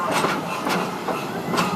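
Safari train ride at the Busch Gardens theme park, a steady close rumble of rail cars with faint rhythmic wheel clatter and no speech.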